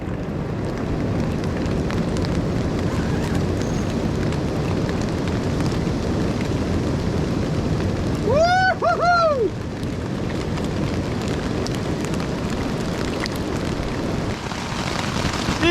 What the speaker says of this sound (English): this rain has not stopped